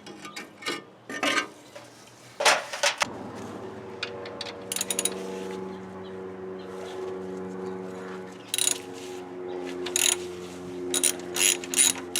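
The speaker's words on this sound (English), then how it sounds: "All you have to do is remove the bolt, and you can slide the pin right out." A ratchet wrench works the bolt off a Ford Model T connecting rod, giving bursts of sharp close clicking separated by pauses, with a steady ringing hum underneath after the first few seconds.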